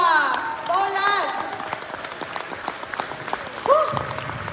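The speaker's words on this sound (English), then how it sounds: "Can we give ourselves a round of applause today?" Applause and cheering from a crowd of attendees at a leadership training seminar in Warsaw, Poland, with a voice shouting and whooping over the clapping as it gradually fades.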